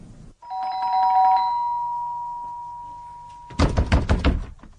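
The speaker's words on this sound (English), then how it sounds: "I want you to ring the front doorbell" A two-tone front doorbell chime in a radio drama rings out clearly and sustains, then loud knocking or thudding follows near the end.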